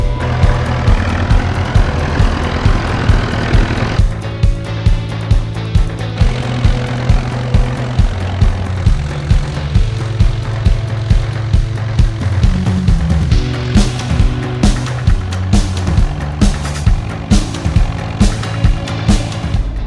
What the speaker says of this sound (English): We've got the tractor going in reverse.